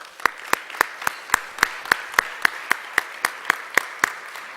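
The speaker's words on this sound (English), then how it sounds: "So I'd like to give them a round of applause." Steady applause at an awards luncheon: a single sharp clap pattern repeating evenly about every quarter second, close and fairly loud, with no voices over it.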